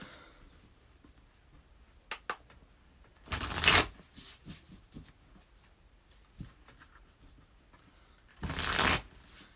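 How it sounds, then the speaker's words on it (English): Tarot cards are shuffled in two brisk riffling bursts, separated by quieter taps and handling noises in a calm room. "This deck shuffles really nice too."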